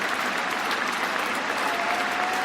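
Sustained applause from a large cricket crowd at the Oval in London, greeting a Test century in a batsman's final match; a dense, steady, distant roar of clapping continues throughout with no break.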